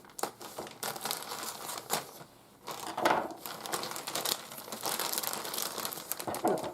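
Crinkling plastic packaging with snipping and rustling as scissors cut through it, close by and intermittent, with handling noises throughout.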